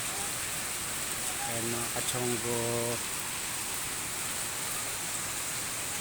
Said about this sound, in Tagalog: Ayan, malakas ng ulan.